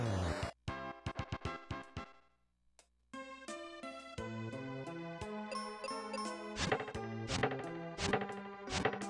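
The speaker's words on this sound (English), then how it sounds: "Chopping down every tree in the forest." Chopping down trees in the video game Final Fantasy Mystic Quest: chiptune music plays with a run of sharp, regular whacking chop hits and jingly tones, clear and with no voices.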